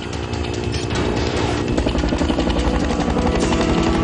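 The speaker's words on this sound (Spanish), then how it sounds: "Los helicópteros aterrizan." Helicopters coming in to land at night on an airfield tarmac, a loud, continuous rotor and turbine roar that stays steady and close throughout.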